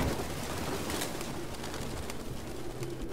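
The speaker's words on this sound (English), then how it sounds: "It's more pigeons." Pigeons coo softly in the video game Detroit: Become Human, their low murmuring calls partly buried in a dense, hissing ambient wash that runs the whole time.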